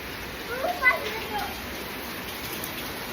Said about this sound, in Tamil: பார்த்தீங்களா இப்படி நம்ம ஊரில் மழை பெஞ்சிட்டு இருக்குன்னு.